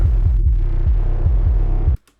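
A heavily distorted 808 bass pulses in a steady rhythmic pattern under a buzzing triangle-waveform synth, loud and dense, then cuts off abruptly near the end.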